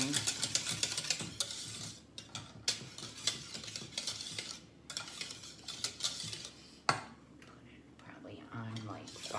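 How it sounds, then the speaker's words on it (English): A spoon stirs lemon pie filling with egg yolks in a pot on the stove, scraping and clinking steadily against the metal for several seconds. Occasional faint sizzle sounds underneath, and there are soft sharper knocks near the end. "You just keep stirring."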